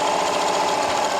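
A Janome Continental M7 sewing machine runs a steady, fast stitch along a fabric seam, its even mechanical whir continuous and close throughout.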